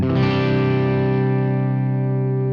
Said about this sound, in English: There's definitely a distortion there, but you get this solidity.